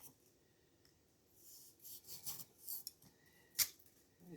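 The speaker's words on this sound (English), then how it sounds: "I'm just using a sawing back and forth motion, and I'm not trying to take too much" Hand saw worked back and forth across a log while shaping it, producing soft, intermittent rasping strokes that build then end with a sharper scrape, quiet and close with no talk.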